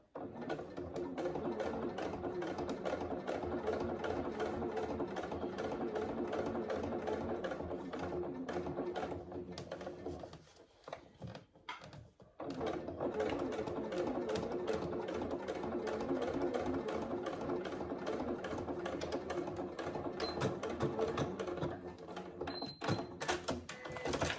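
A sewing machine fitted with a microtex needle stitches coated fabric for a wash bag, running in steady continuous bursts with a short pause partway through, close and fairly loud.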